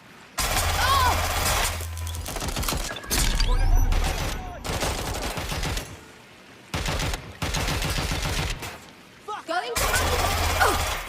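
Bursts of gunfire in the video game Watch Dogs: Legion, loud rapid volleys in several clusters separated by short gaps, with voices talking between and over the shots.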